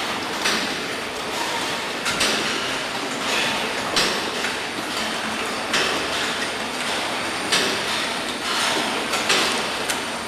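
A 1998 Poultry Tech Maestro high-speed scissor opener, a 16-unit poultry evisceration machine, runs with a continuous rhythmic mechanical clatter and repeated metallic clicks, loud and close, with no talking.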